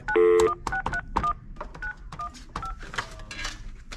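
A telephone dialed at a car dealership to reach a customer, a quick series of close, clear DTMF touch-tone beeps one after another, each brief and distinct, with faint background noise and no talk.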